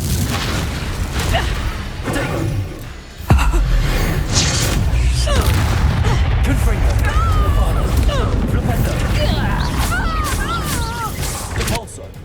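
A Confringo spell blasts in Hogwarts Legacy with a sudden loud boom, followed by a long rumbling, crackling roar of battle noise with bright whooshing magical effects and voices shouting over it.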